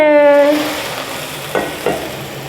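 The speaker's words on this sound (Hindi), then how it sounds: "चूल्हा मैं बंद करती हूँ और ये मैं भगार लगाती हूँ" Hot tempering (baghar) is poured onto cooked daal mash with the stove switched off, a loud sizzle that bursts up and then settles, with two short spoon-scraping stirs near the end.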